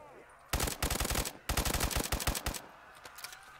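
Rapid automatic gunfire from a Black Ops 3 custom zombies map set in Bikini Bottom, fired with unlimited ammo in two loud, dense bursts followed by a few scattered shots.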